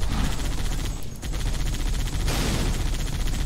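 Rapid automatic gunfire in a Halo 3 Lego mod game pours into a Warthog vehicle, a dense, loud rattling burst that briefly thins near the one-second mark and swells again after, continuous and close with no voices.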